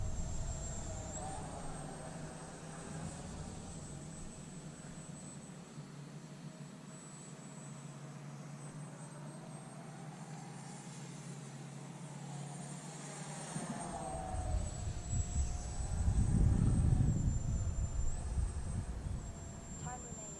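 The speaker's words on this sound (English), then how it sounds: "love the sound of that jet." An electric ducted fan model jet, a trainer, gives a steady high-pitched whine as it passes overhead for a long stretch, swelling louder near the end as it flies closer, with a voice talking underneath.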